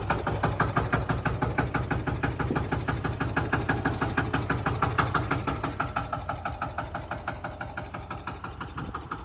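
A Lanz D1266 tractor engine idles very slowly with a big flywheel, giving a steady, close, loud chugging thump of evenly spaced beats that fades slightly toward the end, with no talking.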